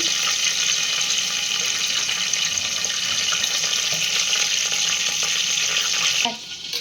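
Mustard seeds and cumin splutter in hot oil, sizzling and crackling steadily and close, a dense frying hiss that cuts off near the end with a small clatter.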